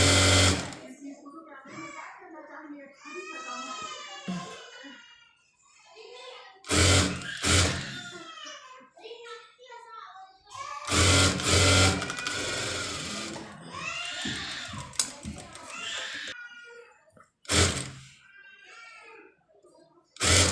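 A sewing machine stitching a dress from an old saree runs in several short bursts of rapid whirring, loud and close, while someone talks in between the runs.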